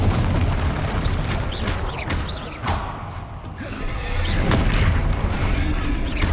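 Confringo spell blasts in the Hogwarts Legacy video game: a series of loud, booming explosions over a dense, continuous rumble of combat, with heavy impacts recurring every second or so.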